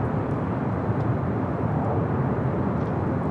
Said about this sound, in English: JetBlue flight still, well, now heading into Terminal 1.